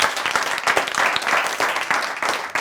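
Brief burst of audience clapping for a guest at a talk, lively and uneven with individual claps standing out over about two and a half seconds.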